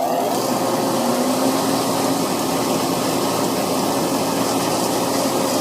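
A homemade belt grinder with a 3600 RPM motor driving pulleys and wheels runs steadily, a loud, constant motor whir and belt rush heard close up, unchanging throughout, with no voices.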